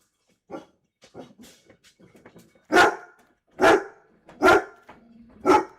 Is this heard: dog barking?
yes